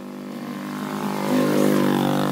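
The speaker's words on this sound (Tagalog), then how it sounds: "Ang tricycle." A motorized tricycle engine revs steadily, its droning note climbing as the throttle opens partway through, loud and close with no talk over it.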